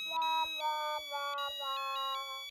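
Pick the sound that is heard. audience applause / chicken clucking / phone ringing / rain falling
phone ringing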